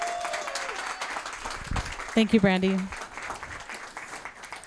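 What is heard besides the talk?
audience applause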